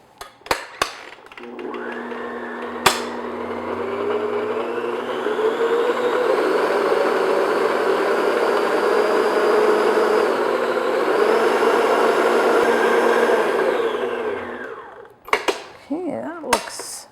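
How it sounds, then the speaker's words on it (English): Electric mixer beating a chocolate frosting mixture for brownie cupcakes, a loud steady whir lasting about twelve seconds, with clattering knocks just before and after it. "what I'm going to do is just beat our mixture again for a couple minutes"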